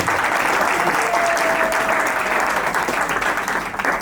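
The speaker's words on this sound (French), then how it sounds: "on applaudit pour le chef de famille s'il vous plaît" Wedding guests applaud the head of the family at an official marriage ceremony, a steady wash of dense clapping that holds evenly for several seconds before easing slightly at the end.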